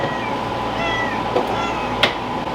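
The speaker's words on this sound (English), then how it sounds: "Why are you meowing at me?" A pet cat meows twice indoors at close range, short distinct calls over a steady low room hum, with no talk during the calls.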